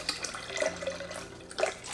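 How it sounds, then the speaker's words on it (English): Apple juice poured into a container while making candles, a brief liquid trickle that swells near the start and again near the end, close and fairly quiet, with no voices. "So we just gonna pour us just a little bit of apple juice."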